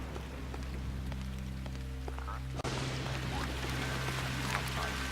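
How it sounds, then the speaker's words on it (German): In the video game Lucius, rain falls as a steady wash of patter over a low ambient hum, briefly cut off by a click before continuing at a similar level. "Und es regnet."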